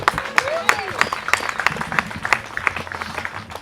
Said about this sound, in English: I always love the cheap applause, too